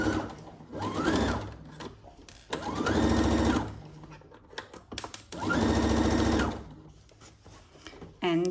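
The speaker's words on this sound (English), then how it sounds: "Let's sew darts." A home sewing machine stitches darts on a Simplicity 1802 garment, whirring fast and close in three separate bursts with quiet pauses between runs.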